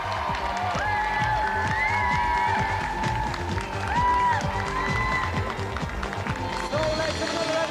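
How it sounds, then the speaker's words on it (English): A television game-show studio audience applauds, sustained clapping and cheering under lively background music with synth tones, fairly loud and continuous. "So let's have another round of applause for Simon Hadlington and our special guest,"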